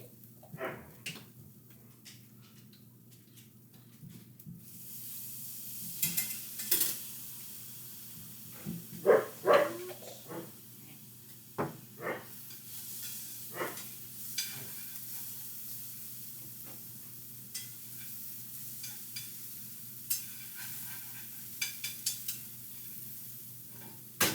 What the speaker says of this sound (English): I'm going to add a little bit of minced garlic to my onions.